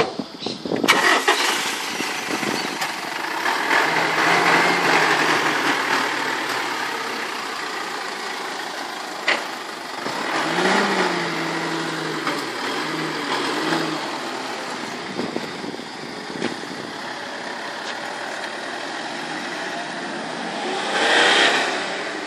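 A Mitsubishi Triton being repaired for EGR faults and carbon build-up cranks and starts, then runs with uneven revs rising and falling, heard nearby with a few clunks and no talk.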